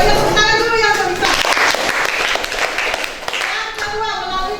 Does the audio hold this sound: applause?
yes